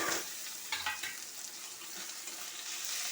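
Chopped tomatoes frying in a pan with a steady, bright sizzle that runs throughout, a brief stirring rustle near the start, and no voices.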